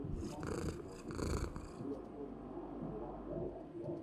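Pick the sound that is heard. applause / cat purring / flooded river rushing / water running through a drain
cat purring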